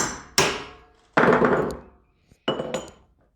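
A large metal chisel is tapped into a wooden saltwater stickbait lure body, producing three sharp, close knocks, each ringing briefly with a metallic clink before fading to silence.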